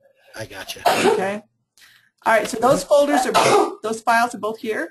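A single sharp sneeze bursts out during an online meeting, followed by a brief pause before people resume talking over it.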